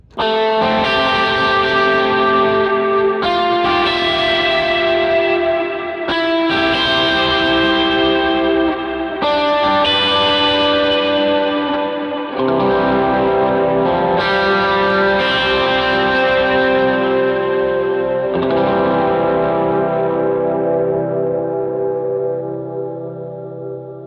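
A heavily overdriven electric guitar plays sustained chords and riffs, loud and saturated, with a thick, gritty tone ringing out alone.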